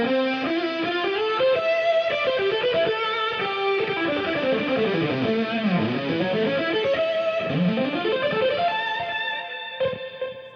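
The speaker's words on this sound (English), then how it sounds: "Go to a third amp setup for more of a straight ahead Marshall kind of sound." Distorted electric guitar through a Marshall amp plays a continuous lead line with bending, sliding notes, loud and close, heavy with effects, no voices.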